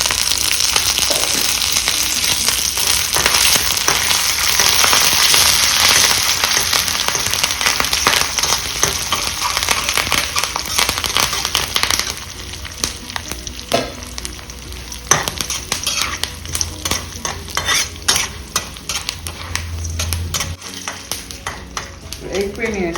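Mustard seeds, black gram and chana dal, cumin, dried red chillies and curry leaves sizzle and crackle steadily in hot oil for a tempering, loud and close, with occasional stirring clinks that ease toward the end.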